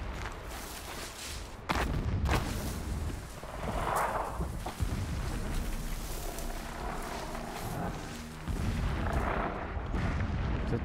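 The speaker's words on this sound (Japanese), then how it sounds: "奥で爆発が。" Distant explosions and booming gunfire echo through a Horizon Zero Dawn game scene, a sustained rumbling barrage with heavier bursts near two, four and eight seconds, fairly loud and continuous with no talk over it.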